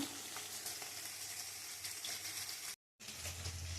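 Onions and tomatoes sauté in a pan for a sardine fish curry, giving a steady, soft, continuous sizzle that cuts out briefly near the end.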